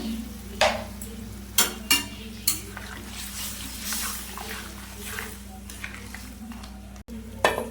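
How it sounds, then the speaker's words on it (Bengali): A pan of fish-head and elephant-foot yam curry masala sizzles steadily, with several sharp clinks and stirring knocks of a spoon against the metal as water, salt and turmeric go in. The sound stays close, with no talking. "এবার জল দিয়ে দেবো। পরিমাণ মতন লবণ দিয়ে দেবো, হলুদ দিয়ে দেবো।"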